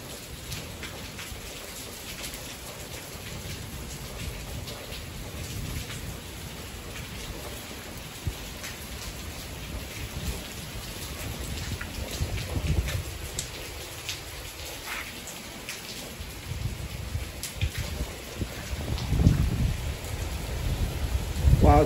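Steady rain falls with faint rumbles of thunder as a storm rolls in over the mountains at Skyforest, California near Big Bear, a continuous wash of sound that swells slightly toward the end, with no talk.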